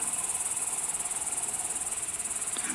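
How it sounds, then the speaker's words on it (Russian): A grasshopper gives a continuous, high, rapidly pulsing buzz, close and steady throughout, with a small click near the end. "кузнечик сидит."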